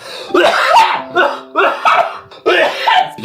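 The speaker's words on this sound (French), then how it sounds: "Je vais tousser." A man coughs repeatedly at close range, a run of four or five harsh, loud bursts separated by short gaps and catches of breath, with no other sound around them.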